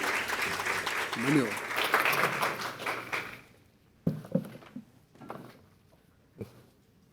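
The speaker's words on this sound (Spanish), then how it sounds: "vamos a una bienvenida, un caluroso aplauso a Carlos, está con nosotros." Applause from a university lecture audience welcoming a guest architect, a dense burst of clapping under a speaker's voice that fades out after a few seconds, followed by a short spoken greeting and scattered knocks.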